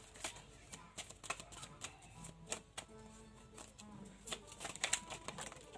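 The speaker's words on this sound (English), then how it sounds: "So we will keep shuffling." Tarot cards are shuffled in quick, crisp riffles and slaps, recurring irregularly at close range, soft overall with a faint background hum.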